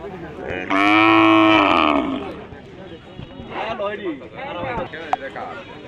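Cattle at a large cow market in Kishoreganj, Bangladesh: one loud close moo lasting about a second, followed by fainter lowing and market chatter, with people talking nearby.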